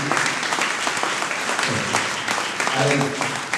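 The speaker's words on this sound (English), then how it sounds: "I didn't get the applause that Calvin got." Audience applause fills a gala hall in Newark, steady and loud clapping from a large crowd that holds for several seconds, with some voices mixed in.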